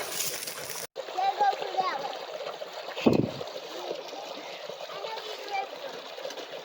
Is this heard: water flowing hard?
yes